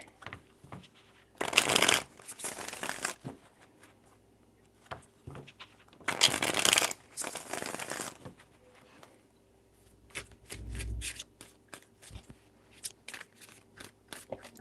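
Tarot cards being shuffled in several short riffling bursts, crisp and close, separated by quieter pauses with light handling noises.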